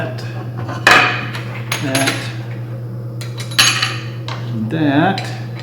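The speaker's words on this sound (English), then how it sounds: "Run my clamp up through that." A metal bar clamp is slid up and adjusted during a solid-surface bathroom vanity countertop build, giving sharp metallic clanks and rattles over a steady low hum.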